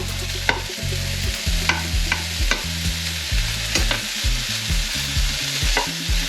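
Bacon frying and browning in a pan, a loud continuous sizzle broken by repeated scraping stirs and clacks of a utensil against the pan at an irregular rhythm, close and with no voices.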